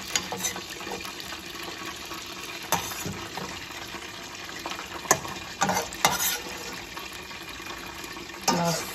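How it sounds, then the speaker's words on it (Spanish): Spices and seeds toast in hot oil in a pan for mole ranchero, giving a steady close sizzle with occasional scraping stirs and clinks of a utensil against the pan. "Aquí dorando las especies, miren, pasándolas por aceite para que quede bien sabroso el mole."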